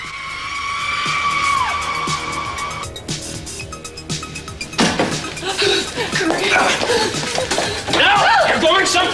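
A car's tires squeal in a long skid, followed by scraping, crashing tumble noises as it goes off a cliff, with voices and dramatic sound layered throughout.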